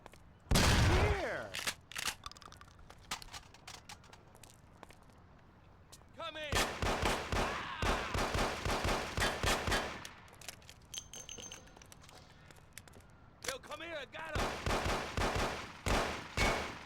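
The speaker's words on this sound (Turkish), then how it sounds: "Silah sesleri de neyin nesi diyor." Rapid bursts of video game gunfire, loud and sharp, coming in several volleys separated by quieter stretches with a brief ringing tone.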